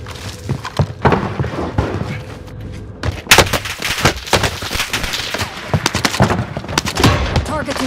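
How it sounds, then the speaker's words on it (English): Gunfire in Call of Duty: Modern Warfare: dense, loud bursts of shots and heavy booms overlapping throughout, with a sharp burst near the middle and a voice speaking amid the combat. "I'm under fire!"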